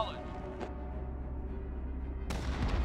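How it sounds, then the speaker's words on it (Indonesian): Artillery fire in the Command and Conquer real-time strategy game, a low sustained rumble with a sharp blast near the end, heard in game audio. "Artileri, shoot! Fire!"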